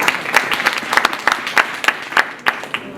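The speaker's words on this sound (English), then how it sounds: "Can you clap for yourself?" An audience claps in scattered, uneven bursts, with a handful of sharp individual claps standing out over a softer patter of hands.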